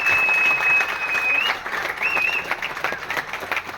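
Audience applause for a testimonial at an event: dense, steady clapping from a crowd, loud and close at first, then easing a little, with a high whistling tone running through it.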